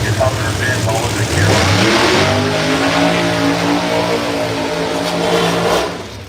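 Pro Mod drag cars at Bradenton Motorsports Park in a winter series, with loud engine roar building and revving nearby, then easing off at the end, while a person talks over it.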